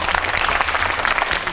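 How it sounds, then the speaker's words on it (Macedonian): A studio audience bursts into steady, dense applause at the opening of a history segment on Goce Delchev, with clapping sustained evenly throughout and no speech over it. "Аплауз!"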